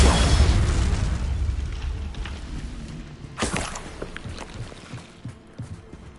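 Spell impacts in the Hogwarts Legacy video game: a heavy explosive boom opens the clip and rolls off, followed by a sharp burst near the middle and scattered smaller pops and magical crackles fading out.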